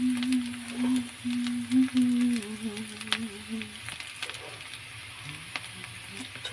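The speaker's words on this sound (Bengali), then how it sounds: "পেঁয়াজটাকে লাল করে ভেজে আলুটাকে দিয়ে দেবো" Onions frying in a pan until reddish-brown, a soft continuous sizzle with faint scrapes and clicks. A tonal hum wavers over the first half and then fades, leaving the quieter frying alone.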